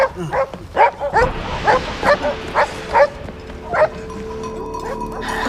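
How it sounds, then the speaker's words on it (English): Several dogs bark at night in a rapid, uneven series of yips and woofs, fairly close and loud, with a faint whimper near the end. "don't you think the dogs are barking weirdly tonight?"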